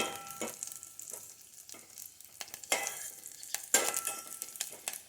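An ingredient fries in a pan for borugula payasam while being stirred, faint sizzling broken by several distinct scraping strokes in an uneven rhythm, quiet and without speech.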